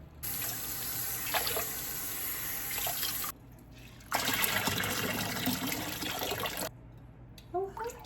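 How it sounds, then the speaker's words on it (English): Sprouts are rinsed under a running tap in a sink, with steady splashing water broken by a short pause, then a second burst of flow before it stops. "let's rinse these sprouts and put them back"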